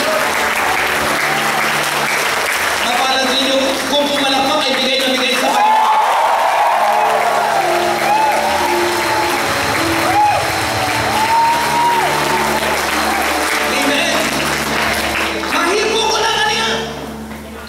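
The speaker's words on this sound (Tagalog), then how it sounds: "Mapalad ninyo kung pumalakpak ay bigay na bigay sa Panginoon." A congregation at an El Shaddai healing service claps loudly and steadily for the whole stretch, with a dense wash of applause and scattered cheers and whoops, while a voice talks and sings over the crowd.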